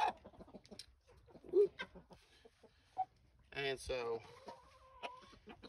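Light Brahma chickens, including a rooster, cluck and call close by in short bursts, mixed in with someone talking through most of the stretch.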